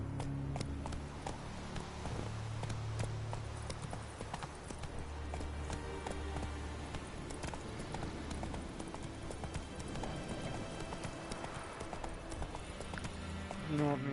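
Geralt's horse Roach trotting in The Witcher 3, a steady clip-clop of hooves running continuously under dense game music and ambience, with a voice talking over it.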